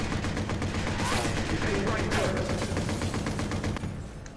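Gunfire rattles through a Watch Dogs firefight, a dense, steady run of shots carrying across the whole stretch, with two sharper bursts standing out and the barrage easing slightly at the end.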